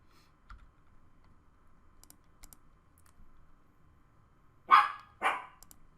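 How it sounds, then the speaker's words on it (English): A dog barks twice in quick succession, loud and fairly close, after several seconds of quiet room tone with faint keyboard-like taps during a Magic: the Gathering match. "Dog is going nuts for no real reason."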